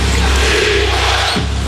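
Big arena crowd roaring loudly at a Knicks versus Cavaliers NBA basketball game, a dense, sustained wall of cheering that fills the whole moment with no clear voice standing out.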